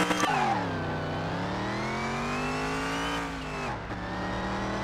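A Dodge Charger engine in Car Mechanic Simulator 2021 revs at a drag-strip launch, a loud steady drone whose pitch dips, climbs and holds, then drops sharply and picks up again as if shifting.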